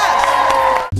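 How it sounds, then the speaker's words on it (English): A studio audience on a morning television show cheers and whoops loudly for a moment, then cuts off abruptly into a low hum. "And let's give a round of applause for all these incredible entrepreneurs."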